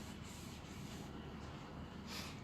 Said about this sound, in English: I'll spray a clean piece